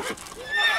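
A horse in the video game The Witcher 3: Wild Hunt gives a short, loud whinny that rises into a shrill neigh, lasting under a second.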